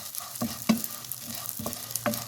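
Edible gum (gond) fries in a pan, a soft low sizzle broken by several sharp scrapes and taps of a spoon stirring the puffing pieces, close and without speech.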